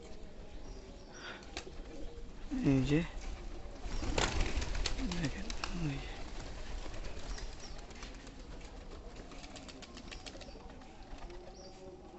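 Pigeons by their loft coo in soft repeated throaty calls, with a burst of wing flapping and louder cooing in the middle, while someone speaks briefly over the birds.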